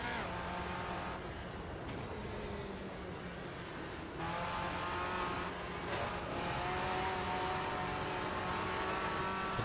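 A race car in the Automobilista 2 racing game drives hard, its engine revving and shifting through gears in a loud, continuous drone with sharp changes in pitch and no talking over it.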